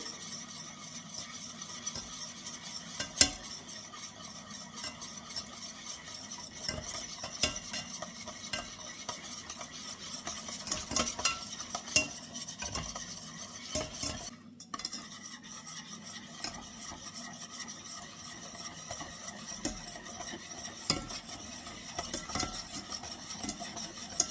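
A whisk scrapes and clicks rapidly against a metal saucepan of béarnaise sauce in a steady, continuous rhythm, close up, with a faint sizzle underneath.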